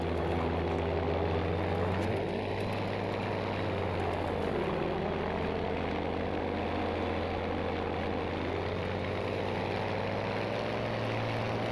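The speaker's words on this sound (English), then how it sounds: "I see a plane." A propeller aircraft flies in the Battlefield V video game, a steady droning engine hum holding at a constant level throughout, loud and continuous with no talk over it.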